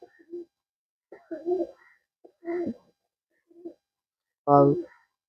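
A female pigeon coos in several short, throaty bursts separated by pauses, close and fairly clear against silence, in a pigeon loft.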